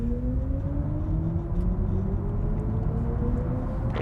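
A BMW iX3 electric SUV accelerating, with a steadily rising motor whine gliding upward over constant road rumble, smooth and continuous with no gear changes.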